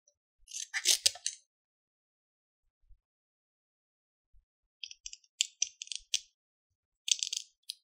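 Scissors snip around a stamped paper image for card making, heard as short crisp bursts of cutting: one cluster early, then a quick run of snips near the end, close and quiet with silence between.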